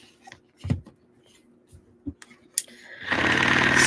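A paint mixing machine spins a paint bottle, starting up loud and steady in the last second after a few faint clicks and knocks of loading it.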